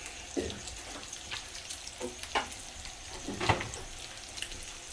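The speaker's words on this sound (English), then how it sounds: "Gonna mix all of that up." Seasonings are mixed into a bubbling pot of sausage and bacon fried rice: a soft sizzling, boiling bed of sound punctuated by intermittent scraping and clinking stirs from a utensil, fairly quiet and close, with no talk.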